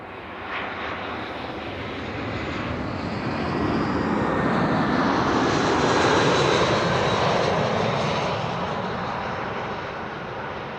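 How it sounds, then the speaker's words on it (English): British Airways Airbus A320 landing at Amsterdam Schiphol with light reverse thrust, a loud engine roar swelling to a peak midway then easing off, close by and alone. "Sounds like it was using the reverses a little."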